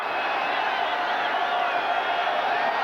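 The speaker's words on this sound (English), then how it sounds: "and that's the crowd" A steady roar of the crowd at an NFL football game between the New York Giants and Philadelphia Eagles in Philadelphia in 1991, a continuous distant wash of many voices that holds level without distinct cheers.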